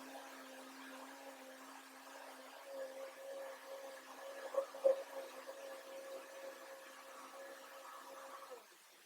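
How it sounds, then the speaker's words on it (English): A kitchen blender runs steadily while oil is added to build an emulsion, giving a quiet, even motor hum with a few brief louder spikes midway and no talk. "Yes, the blender is loud."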